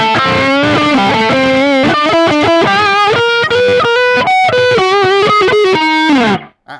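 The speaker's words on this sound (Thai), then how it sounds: "พอเรามีโอเวอร์ไดเพิ่มขึ้นเสียงมันแบบพุ่งขึ้นมามากขึ้นกว่าเดิมฮะ" An electric guitar with overdrive plays a quick melodic line, loud and gritty with sustained distorted notes, then cuts off abruptly.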